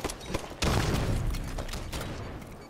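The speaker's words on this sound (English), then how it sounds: "What was that nade?" Grenade blast in Halo 5 during a Coliseum capture-the-flag match: a sudden loud boom with a burst of gunfire around it, then a sustained rumbling tail, alone without talk.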